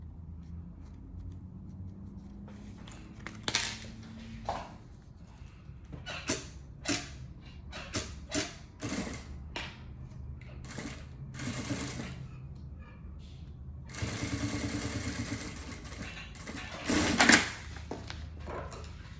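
A domestic sewing machine stitching a safety seam on a fabric cosmetic bag: repeated short runs of rapid mechanical stitching, close and clear, separated by pauses, with a longer run near the end.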